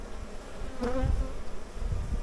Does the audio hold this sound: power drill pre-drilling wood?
no